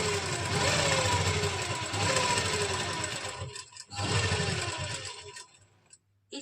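A sewing machine stitching the fitting seam of a lined kameez runs in a loud, close, steady whir, pauses briefly, runs again, then winds down.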